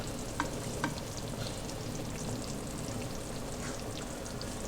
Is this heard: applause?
no